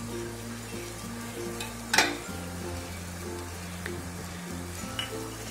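Carrot, cabbage and green chilli stir-fry in a pan for spring roll filling, with a steady low sizzle, a sharp clatter of the spoon near two seconds and lighter stirring taps after it.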